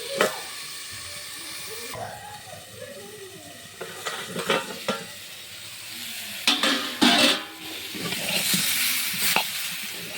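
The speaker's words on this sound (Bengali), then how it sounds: "সুন্দরভাবে হালকা ভেজে নেব।" Pointed gourd and potato pieces fry in a pan with a soft ongoing sizzle, broken by several clattering scrapes and stirs of a spatula that grow louder toward the end.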